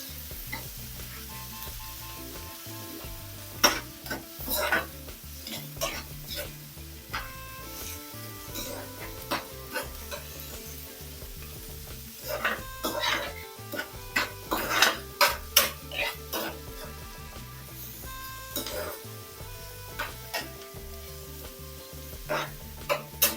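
Onions and spices sautéing in a pan for a curry, a constant low sizzle broken by frequent metal spoon scrapes and clinks against the pan in irregular bursts, close by, without talking.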